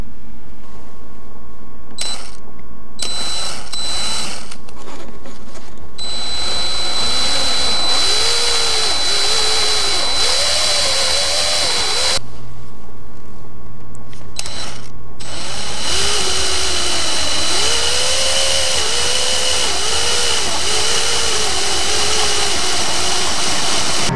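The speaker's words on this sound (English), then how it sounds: "I then just drill out the 2 other holes to around 6mm holes" A power drill bores 6mm holes through a boat's stern hawse fairlead in several bursts, its motor whining and wavering in pitch as it bites, with short quiet gaps between runs.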